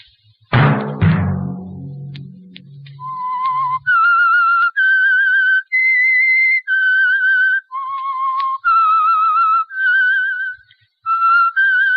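The whistled theme signal of the radio drama The Whistler: a melody of clear, sustained notes in a slow rising and falling tune, preceded by a sharp bang that rings out briefly.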